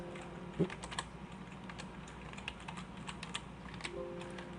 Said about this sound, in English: now we type in assets.